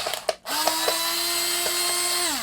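A power screwdriver or drill whirs steadily as screws are removed from a device with intermittent faults, a close, loud mechanical whine after a few short clicks, winding down at the end.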